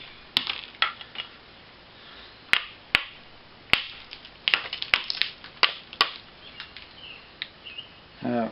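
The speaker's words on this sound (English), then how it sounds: "hear the difference when I hit that concrete?" Flint knapping, a stone struck against concrete while shaping a flake edge: a dozen or so sharp, dry clicks and cracks at irregular intervals, close and fairly loud, with quiet scraping between strikes and no talk.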